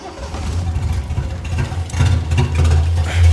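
A carbureted engine from an old-school car, freshly repaired and running on its own, a loud close rough idle with uneven pulsing that rises in a brief rev near the end.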